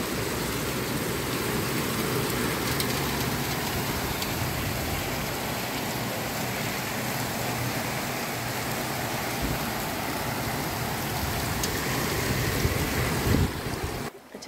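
Heavy stormy rain roars steadily, with gusty wind-like surges, a loud unbroken wash of noise that cuts off abruptly at the end.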